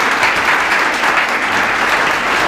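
An audience at a Marathi motivational speech gives steady, dense applause from many hands. It is loud and close, with no pauses throughout.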